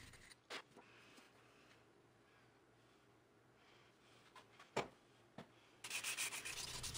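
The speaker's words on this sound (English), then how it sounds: "While I had the hand file out, I figured I'd go over the whole thing once just to get all of the big scratch marks out from the sander." A hand file smooths the surface of a cholla skeleton epoxy and redheart knife handle, giving faint, steady rasping strokes with a few sharper scrapes, then a louder, brighter burst of filing near the end.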